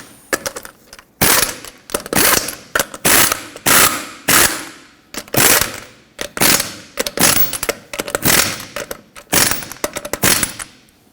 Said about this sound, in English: Start on all 5 of your lug nuts, bottom them out in a cross pattern, and then also in a cross pattern, tighten them to 83 foot-pounds